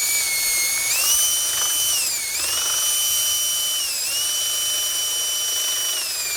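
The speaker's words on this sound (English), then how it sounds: "I would say this here DeWalt 20-volt max drill qualifies for a good cooking gadget" A DeWalt 20-volt max cordless drill runs continuously with a high, steady motor whine, its pitch dipping briefly twice as the load or speed changes, close and without talk.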